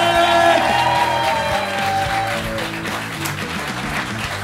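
Audience applause and cheering welcoming a stand-up comedian onto the stage at a comedy show in Bristol. The clapping is loud and steady throughout, with occasional whoops and shouts from the crowd and some background music.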